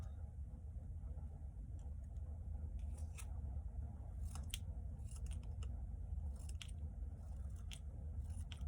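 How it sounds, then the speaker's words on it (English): Scissors snipping short strips of black paper for a calavera craft, a series of soft quick clips at an irregular rhythm, close and quiet over a low background hum. "And then I will cut little short black paper lines to go across the mouth."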